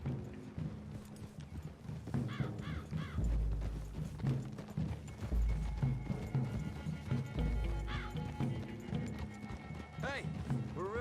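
Horses' hooves clip-clop steadily along a wooded trail in the Red Dead Redemption 2 video game, moderately close, with a horse whinnying and riders talking over the hoofbeats.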